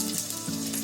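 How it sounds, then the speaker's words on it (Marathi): Garlic sizzles in hot oil in a kadhai while a green masala paste is being prepared, giving a steady broadband hiss with no talk, close and continuous for under a second. "आता त्याच्यामध्ये लसूण टाकते."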